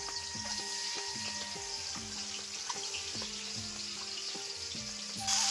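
Potatoes stirred and fried in a pan of cooked-down egg curry spice paste give a steady, close sizzle with scraping and stirring throughout, ending in a brief louder hiss.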